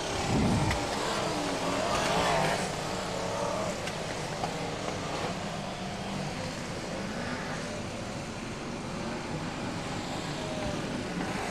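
BriSCA Formula 1 stock cars race at Long Eaton in 1994 in horrendous conditions, and their engines make a dense, continuous roar that stays loud and unbroken throughout.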